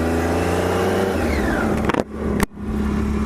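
A motorcycle rumbles nearby on a February day in South Dakota, its engine note rising as it pulls away, followed by sharp wind and handling bursts and a brief dropout.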